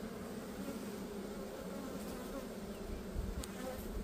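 Honey bees buzzing around an open beehive during a hive inspection: a faint, continuous, even hum of many bees, steady throughout with a few slight soft knocks.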